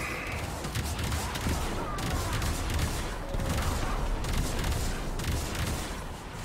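Continuous gunfire from crew gunners in a Warframe Void Storm mission, dense rattling bursts and dull impacts blending into a steady loud wash of combat noise, with a voice talking faintly.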